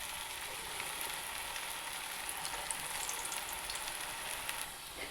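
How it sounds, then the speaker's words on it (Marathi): Potato cutlets fry in hot oil over a low flame, a faint, even, continuous sizzle with light crackling, heard close and alone. "आता आपण कटलेट तळायला टाकून घेतले"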